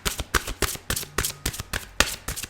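Tarot cards are shuffled by hand in a quick, rhythmic series of crisp riffling slaps, about nine bursts in two and a half seconds, close and clear with no talking.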